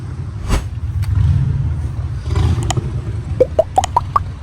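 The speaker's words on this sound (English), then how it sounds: "A beautiful Camaro." A classic Chevrolet Camaro engine giving a low, close rumble that swells and fades, followed by a quick series of sharp metallic clicks or pings near the end, with no one talking.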